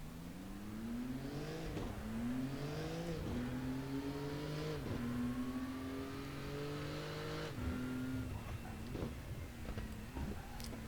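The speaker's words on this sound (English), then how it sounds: "a little bit different sounding for a Porsche." Porsche GT2 race car engine in the RaceRoom racing game, revving up through repeated rising gear pulls with short breaks at each shift, loud, close and continuous with no talking.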